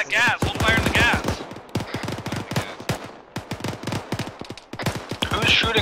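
Gunfire in the Arma military game rattles in quick cracks at a GAZ vehicle, mixed with urgent radio voices talking over and between the shots.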